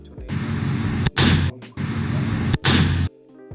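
Real gun firing, two loud, close bursts of sustained automatic fire each cut short, with sharper blasts between and a brief quiet tail at the end.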